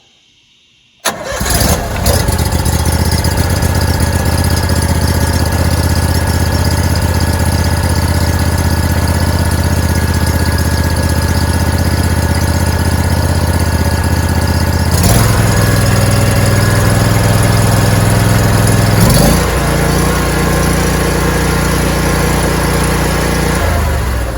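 A hot water pressure washer's engine cranks, catches and then runs steadily with a loud, even drone, its pitch shifting slightly around the middle and again near the end.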